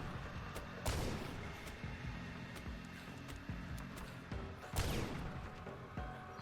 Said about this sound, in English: I don't get how the sawed-off shotgun works in this game.